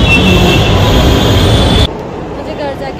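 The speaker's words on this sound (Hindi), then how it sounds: "मैं अपनी मेट्रो का वेट कर रही हूँ" A metro train rumbles steadily at a station with a high whine running over the noise, then abruptly cuts to quieter platform ambience.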